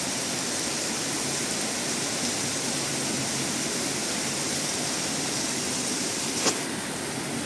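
Water rushes across a flooded sorghum farm field, a constant, full broadband roar of flowing water that stays steady and close throughout.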